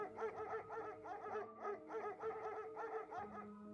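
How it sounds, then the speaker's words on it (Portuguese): A pack of dogs barks furiously as if hunting, with quick overlapping yelps and howl-like cries repeating in bursts, fairly faint and distant-sounding. "Os latidos eram furiosos, como o que os cães dão quando estão caçando."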